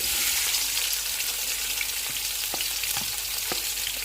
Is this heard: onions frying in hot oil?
yes